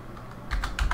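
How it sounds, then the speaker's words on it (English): A few quick, close keystrokes on a computer keyboard while someone types into a search bar in the LSPDFR police mod for GTA V on PC. A short quiet stretch comes first, then a cluster of crisp taps. "you're going to type in this search bar"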